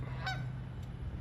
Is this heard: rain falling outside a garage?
no